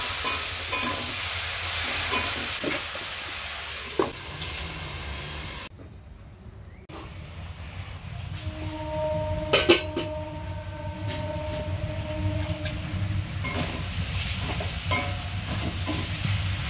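Water lily stems being stir-fried with fried fish head, salt and coriander powder, a continuous close sizzle with spatula scrapes and clinks, a short quiet gap, then frying resumes with faint ringing tones.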